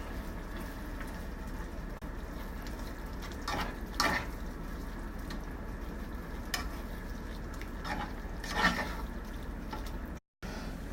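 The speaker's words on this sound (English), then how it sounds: "Let's give it a stir and get this sausage into the ingredients." A pot of jambalaya with sausage bubbles and sizzles at a steady boil, and a spoon stirs it in a few soft scraping swishes. The simmer runs continuously and no one speaks.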